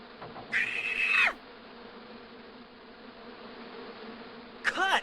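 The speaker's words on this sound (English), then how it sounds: "Ah, the bees are back." Bees buzz in the Broken Sword 2 remastered adventure game, two bright bursts of insect whine at the start and end over a quiet, steady ambient background, with no speech.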